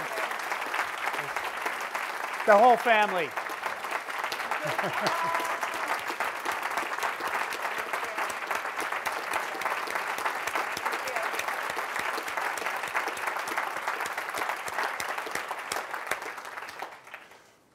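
Long, sustained applause from a large audience, steady throughout before tapering off at the end; a voice briefly speaks over the clapping early on.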